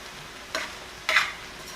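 A spoon stirs Jamaican red beans and rice in a small pot, two brief scraping swishes about half a second apart, close and fairly soft over a quiet background.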